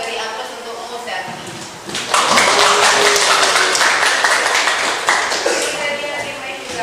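A classroom group applauds for the religious teacher, with loud scattered clapping starting after a couple of seconds and continuing fairly steadily before tapering slightly.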